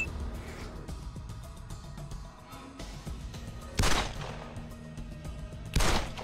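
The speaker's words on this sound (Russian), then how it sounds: "Что это за выстрелы?" Gunfire in the video game Wasteland 2, with two loud sharp shots standing out against a rumbling, busy background of game sound.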